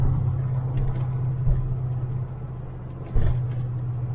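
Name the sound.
1985 Chevrolet Corvette driving on the road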